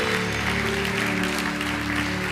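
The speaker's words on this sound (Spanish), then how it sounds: "Fuerte el aplauso al que hace la palabra real" A church congregation at a Christian sermon claps loudly and steadily over sustained musical tones, a dense wash of applause throughout.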